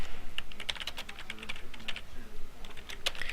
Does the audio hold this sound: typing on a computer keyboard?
yes